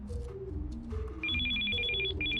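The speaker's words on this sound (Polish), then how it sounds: "Telefon." A telephone ringing in the video game Still Life 2, a repeated electronic trilling bell starting partway through, loud and close over soft game music.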